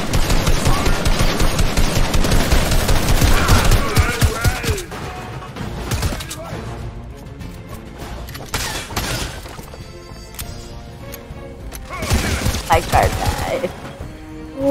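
Video game gunfire: dense rapid bursts of automatic fire and shattering impacts, loud up front, then sparser shots and mechanical clatter with a voice talking over parts of it.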